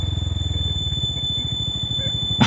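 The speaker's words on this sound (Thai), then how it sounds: "เสียงเบรกอันเล้าใจ" A Honda Forza 300 scooter gives a sustained, high-pitched brake squeal over a low, pulsing engine note, ending in a brief louder burst.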